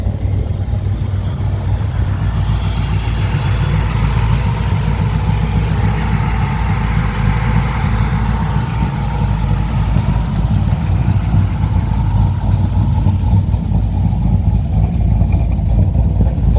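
A Chevrolet Camaro with a built LT1 383 V8 rumbles steadily at idle with its exhaust cutout closed, deep and throaty, with a mild swell in revs partway through; no talking.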